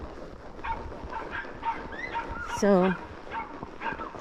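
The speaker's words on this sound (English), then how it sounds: "Oh gosh, dogs know we're back." Dogs bark and yip at a primitive campsite in O'Bannon Woods State Park, a few sharp calls at moderate distance, one loud bark standing out, while a person speaks nearby.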